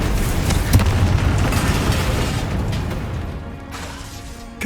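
Spell explosions in the Hogwarts Legacy video game go off as a heavy boom with crackling burst and debris, then a rumbling decay that fades over several seconds before a fresh pop at the end.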